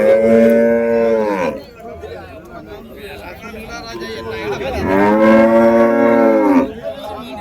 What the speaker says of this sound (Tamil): இங்கே ஒரு ஜோடி காளைங்க இருக்குங்க,